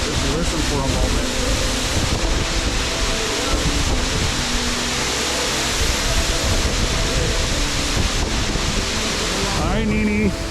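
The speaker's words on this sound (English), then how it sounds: "Let's just hang out here with the pool, the nice waterfall in the back." A waterfall pouring into a pool behind the listener on a hiking trail, a constant loud broadband rush of falling water that fills the whole stretch, with a few faint tonal sounds near the end.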